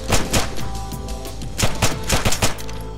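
Assault rifle fire in the Wasteland video game, loud close bursts of rapid shots with a short pause between volleys.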